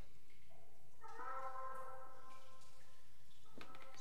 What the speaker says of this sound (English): The cat seems to be meowing from behind this wall.